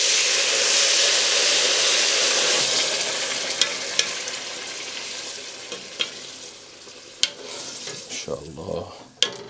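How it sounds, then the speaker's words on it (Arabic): Chicken broth is poured into fried, toasted bulgur in a pot, setting off a loud surge of hissing sizzle that slowly fades while the spoon clinks and scrapes against the pot. A voice speaks briefly near the end. "بنضيف عليها مرقة الدجاج"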